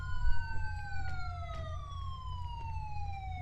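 Police car sirens wail in a law-enforcement roleplay video game, several overlapping tones sweeping slowly downward together, steady and fairly loud over a low rumbling engine bed for the whole stretch.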